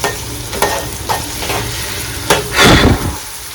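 Onions frying in a pan for chicken biryani, stirred round and round with a spoon scraping in a few distinct sweeps over a constant close sizzle, one louder scrape near the end, no voices.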